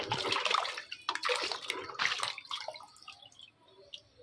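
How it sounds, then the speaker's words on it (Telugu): Water sloshes and splashes in bursts as mangoes for pickle are rinsed by hand, tapering into quieter drips toward the end. "శుభ్రంగా కడగాలి వాటర్లో నేను చాలా శుభ్రంగా కడుగుతున్నాను"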